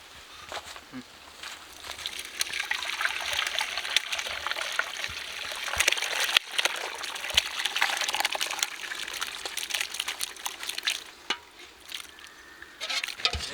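Whey from curdled milk trickles and gushes through a straining cloth while making rasgulla, an uneven, close watery pouring with splashy bursts that runs throughout.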